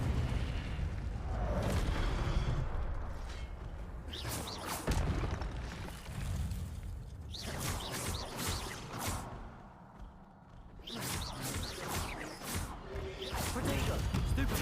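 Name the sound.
spell casting effects in Harry Potter video game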